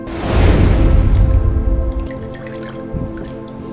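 Softened noodles soaked in water are rinsed and washed, with a close burst of splashing, sloshing water that gradually thins into dripping and trickling, ending in scattered drips.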